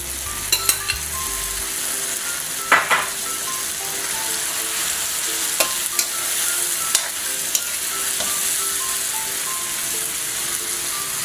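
Meat sizzling and being stirred in a hot pan while cooking a Filipino mung bean (munggo) dish, with scraping spatula strokes and steady frying hiss, close and loud, no talking.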